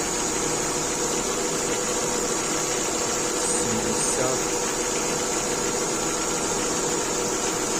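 A still-cool car engine idles close by, a constant droning rumble with a hissy noise layer and a brief faint bump partway through.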